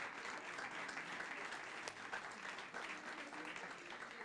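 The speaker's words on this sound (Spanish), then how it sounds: "Denle un aplauso a Dios." A church congregation applauds steadily throughout, a dense even clatter of many hands that stays at a moderate, fairly distant level with no pauses.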